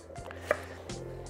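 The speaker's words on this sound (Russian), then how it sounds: "Сельдерей. Люблю его нарезать вот так, такими перышками." Kitchen knife slicing celery thinly on a cutting board, a few soft close chops at an easy pace with no talking.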